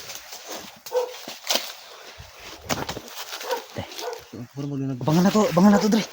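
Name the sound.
dog barking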